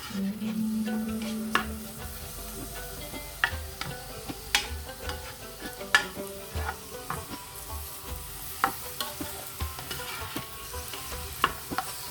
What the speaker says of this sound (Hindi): देखिए बस मैंने इसको हल्का सा बस इसको सोटे किया है।